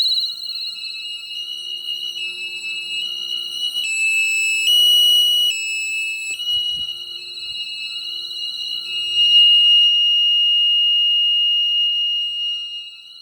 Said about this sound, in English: System disarmed. Alarm canceled.